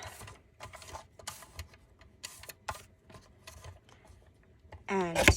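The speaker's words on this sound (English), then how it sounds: "And then I put them through the embossing machine" Paper scraps are cranked through an embossing machine, giving a series of close, irregular clicking and ticking bursts followed by a louder grinding rasp at the end.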